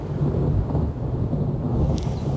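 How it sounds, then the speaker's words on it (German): Low, steady rumbling of thunder during a thunderstorm with rain, a continuous broad roar filling the clip with no talk, plus a brief faint higher sound near the end. "Ich hätte den Donner gerufen."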